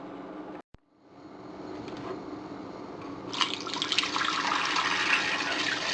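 Water is poured into a pot for a second boil of pork leg (pata) for a Filipino kadyos, pork and jackfruit dish, a steady liquid rush that builds and grows louder after a brief silence and a single knock.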